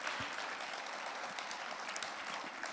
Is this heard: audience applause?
yes